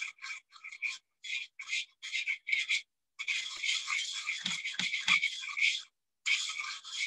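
Cornstarch sauce whisked briskly in a bowl, heard as short rhythmic bursts of scraping strokes, then a longer continuous stretch of fast whisking with a few low knocks, close and fairly quiet.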